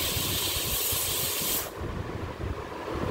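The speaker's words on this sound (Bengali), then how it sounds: "এই যে প্রেসারে সিটি হচ্ছে" New pressure cooker whistling on a home stove, a loud continuous steam hiss that cuts off abruptly partway through, leaving a quieter background.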